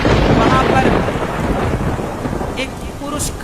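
Steady heavy rain with rolling thunder fills the whole stretch, loud and continuous, with a brighter crack of thunder near the end.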